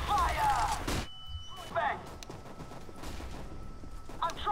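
Gunfire in a CS:GO campaign mission, with a loud burst at the start followed by scattered lighter shots and mechanical clatter under a busy background.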